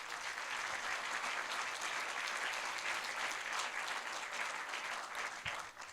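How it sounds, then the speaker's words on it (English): An audience at a literary hall of fame induction ceremony gives steady, sustained applause throughout, with the clapping tailing off slightly at the very end. "Please give them a round of applause."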